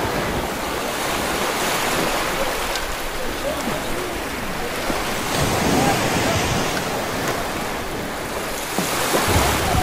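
Ocean waves at Praia do Forno beach in Arraial do Cabo wash in as a steady, loud rush of surf, mixed with wind buffeting the microphone and no clear break between swells.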